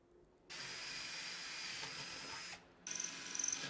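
A power drill whirs steadily through wood for about two seconds, drilling dowel holes for a shelf, stops briefly, then starts again with a rougher, stuttering buzz.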